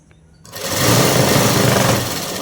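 An electric sewing machine starts up and runs steadily, stitching a straight seam along the collar of a dress, a loud close whirring buzz that builds within half a second and holds without pause.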